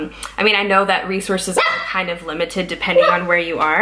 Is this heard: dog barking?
yes